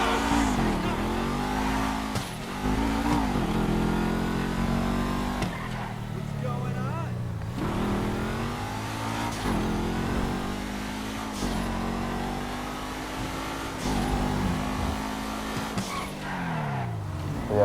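A Massacre race car in GTA Online revs repeatedly in bursts, each rise in engine pitch dropping as it shifts. Tyre squeal and skidding run under the engine noise while someone talks over it.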